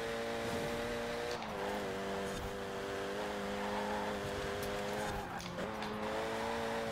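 A 2008 Renault Mégane R26-R engine in the Forza Horizon racing game holds a steady high whine at near-constant revs, with brief tire scrubs and shifts around the one- and five-second marks.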